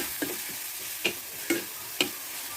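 Onions with a little salt sautéing gently over low heat on a wood-fired stove give a faint, steady sizzle, broken by three or four soft spatula scrapes at roughly half-second intervals.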